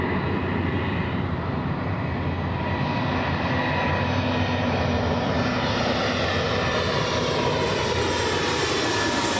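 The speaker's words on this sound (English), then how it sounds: "It looks like an Airbus A320." An Airbus A320 jet airliner at Los Angeles International Airport gives a steady, broad engine roar that stays fairly close and constant throughout, with no voices.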